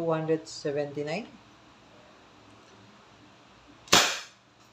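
A WinGun 702 CO2-powered airsoft revolver fires a single sharp, loud crack with a short decay, after a brief spoken voice and a quiet pause.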